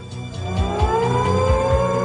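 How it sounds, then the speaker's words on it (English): An air raid siren warning of enemy aircraft during the Belfast Blitz wails with a rising, sustained tone, fairly loud and alone, with a faint pulsing rhythm underneath. "Air raid sirens regularly rang out across the city as a warning that enemy aircraft could be near."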